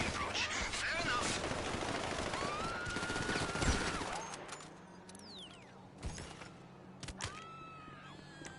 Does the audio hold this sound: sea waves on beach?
no